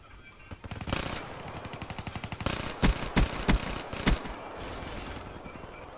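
Automatic gunfire in a Call of Duty Black Ops 3 Domination multiplayer match, several rapid bursts and a handful of loud, punchy single shots mid-clip, then a quieter tail with no talking.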